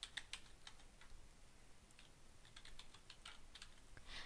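Username and password being typed on a computer keyboard, a quick irregular run of soft key clicks, close and quiet with no talk.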